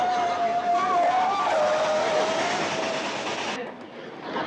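A train rumbles along the rails with a steady mechanical roar and a long whistle-like tone sliding across it, then the noise drops off near the end.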